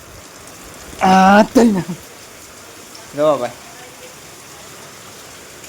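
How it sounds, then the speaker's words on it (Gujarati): Steady rain falls on a rooftop terrace, a constant hiss of drops on the surface, while someone speaks briefly in two short bursts over it. "આમ વરસાદ પડી રહ્યો છે"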